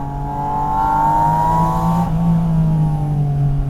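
A Porsche Boxster Spyder RS engine drones loudly and close as the car downshifts from 5,000 RPM. The tone slides steadily downward, then the pitch shifts abruptly as the gear changes and the engine settles into a deep, steady roar.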